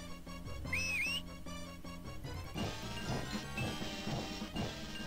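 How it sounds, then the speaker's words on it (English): A short, rising-and-falling whistle toot from the Blazing Dragons video game sounds once, clear and bright over the game's steady background music, followed by louder clattering and crashing effects. "Oh yeah, let's blow that whistle!"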